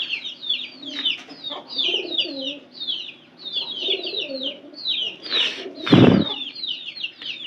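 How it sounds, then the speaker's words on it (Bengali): Pigeons kept inside a room, new birds among them, feed while soft coos and rapid high chirps keep going, then one sudden loud burst of flapping wings nearby. "এটা নতুন কবুতর"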